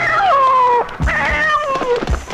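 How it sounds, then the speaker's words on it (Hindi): A cat meows loudly and close up in a Hindi horror film scene, giving two drawn-out wailing meows in succession that sound almost like a caterwaul, with no talking. "इतना छोटा चोर! बिल्ली, मैंने उसे मार डाला।"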